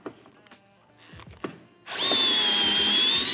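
Cordless power drill spinning out T30 Torx screws on a Can-Am Defender utility vehicle, a few light handling clicks followed by a sudden loud, sustained high-pitched motor whine close to the microphone.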